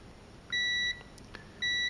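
Two short, high electronic beeps from a multimeter continuity test indicating a short on a FritzBox router board, each about a third of a second, separated by a pause, fairly quiet against faint background hiss.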